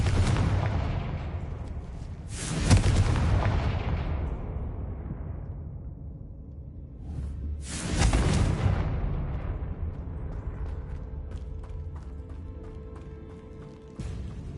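A Confringo spell explosion in Hogwarts Legacy gameplay, two heavy booming blasts a few seconds apart, each decaying into a long rumbling tail, loud and close.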